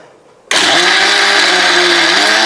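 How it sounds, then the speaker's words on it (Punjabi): A kitchen mixer grinder switches on abruptly and whirs loud and steady, blending vegetables for tomato soup with a high, continuous motor whine and no talking. "ਇੱਥੇ ਮੈਂ ਸਾਰੀਆਂ ਸਬਜ਼ੀਆਂ ਨੂੰ ਗ੍ਰਾਈਂਡਰ ਦੇ ਵਿੱਚ ਪਾ ਦਿੱਤਾ ਹੈ"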